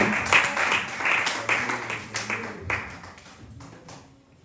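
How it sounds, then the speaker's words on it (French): A church congregation claps for the Lord, many hands clapping at close range in a quick, uneven burst that gradually fades and thins toward the end. "Acclamons pour le Seigneur."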